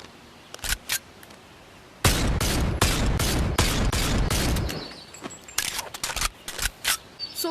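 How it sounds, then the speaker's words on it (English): Gunfire from the Diago gun mod in Bonelab: a few sharp single shots, then a loud sustained burst of rapid fire, followed by quick metallic reload clicks. "the gun sounds are great, the reload is great"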